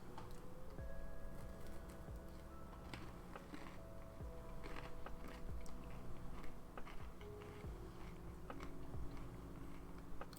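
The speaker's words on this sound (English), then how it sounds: "you guys get to see me snack on some taquitos" Dry, crunchy taquitos being chewed close to the mic, a steady run of crisp bites and crunches over a faint background hum, with no talking.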